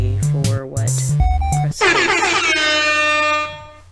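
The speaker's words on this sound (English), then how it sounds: "MLG air horns." Loud MLG air horn blasts from a Five Nights at Freddy's Pizzeria Simulator game: a rapid run of short stacked honks, then one long sustained blaring horn that fades near the end.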